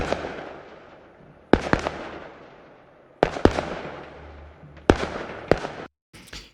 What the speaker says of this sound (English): we're going to be listening to a Firework recording from Valentin